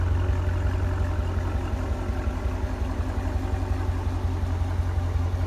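A 2017 Dodge Challenger T/A 392 with its mid-muffler removed and resonators still fitted idles on a winter day. Its deep, steady rumble is close and even, with no revving.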